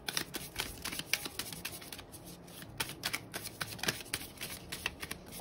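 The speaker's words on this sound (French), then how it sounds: "On va tirer une dernière carte conseil." A deck of tarot cards being shuffled by hand, with dense papery riffles and flicks in quick irregular bursts, close and fairly quiet, with no talking.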